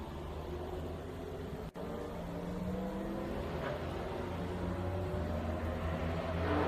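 Amy Ruman's number 23 Corvette, a Trans Am race car, driving past on the track at Road America, a steady engine drone and whir that builds gradually in loudness.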